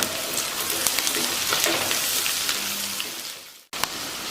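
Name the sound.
frying vegetables in a pan for poha upma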